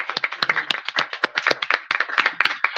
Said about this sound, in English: Let's applaud our hosts.